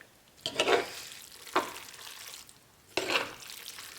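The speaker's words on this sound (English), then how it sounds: "Just gonna stir that up." A spoon stirs creamy vegan Thai coconut curry noodles in a pan, producing three distinct wet scraping, squelching strokes spaced about a second apart, close up and moderately loud, with no voices.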